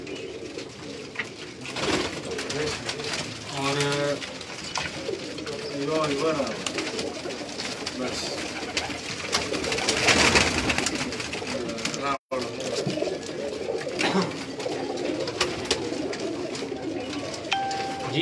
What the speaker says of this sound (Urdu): اگر یہ ٹک جائے ذرا قریب سے دکھا دیں جی اس کبوتر کو.